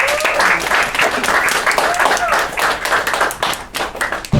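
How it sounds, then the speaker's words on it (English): At a talk about mental health stigma, a small audience claps loudly and unevenly for a few seconds, crisp close hand claps forming a lively burst of applause. "let's give a round of applause to Aleesha."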